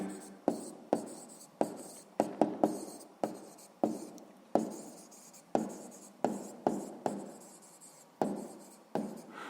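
Writing on a board during a sixth-grade maths lesson: sharp chalk-like strokes and taps in an irregular rhythm, close and fairly loud, with a faint voice now and then.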